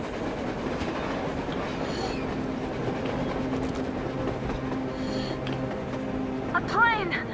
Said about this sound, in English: A train! A damn train on the surface!